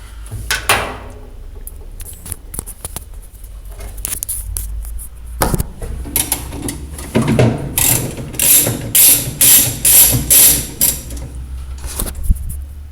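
A ratchet loosens a screw on a Kenmore washer agitator during repair. It gives rapid, close clicking bursts, with a loud pawl chatter in the second half that comes in several repeated strokes, and there is no talk.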